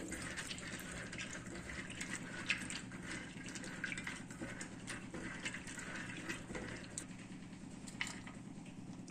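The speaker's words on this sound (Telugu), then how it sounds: "ముందుగా దీన్ని బాగా క్లీన్ చేసుకోవాలి వాటర్తో" Running tap water pours steadily while dried goat mutton is washed by hand to rinse off dust, a soft continuous splashing and gushing that carries on alone without talk.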